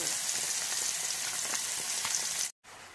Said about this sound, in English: my onions and garlic, just sort of gently frying those in